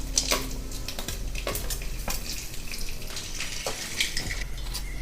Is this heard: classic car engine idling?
no